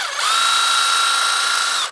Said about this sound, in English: Drill it out a little bit.